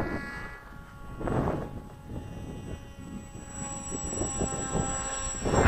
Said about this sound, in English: That's the search and rescue plane.